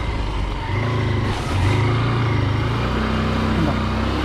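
Off-road vehicle engine held under gentle throttle on a slick, tile-like trail at Uluppuni, a steady close rumble whose pitch climbs and holds as the revs rise partway through.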